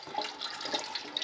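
Water gushing and splashing out of the front axle of a 1993 Jeep YJ, a steady broadband rush running unbroken through the whole moment, fairly close and with no talk over it.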